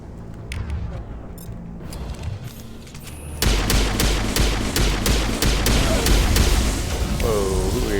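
Mass Effect 1 gunfire: scattered shots first, then a dense, loud burst of rapid automatic fire with booms that keeps going to the end.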